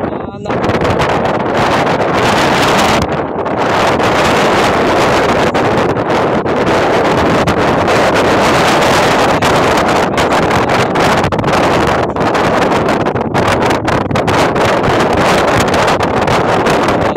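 Strong wind at sea batters the microphone on a fishing boat in rough, wavy water, making a loud, constant roar and buffeting gusts that swell and dip throughout.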